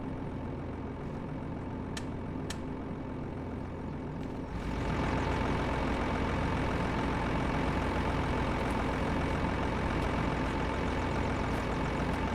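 A diesel locomotive engine idles steadily inside the cab in the Derail Valley train simulator game, a low continuous rumble that grows louder and fuller about four seconds in and then holds constant, with no talking.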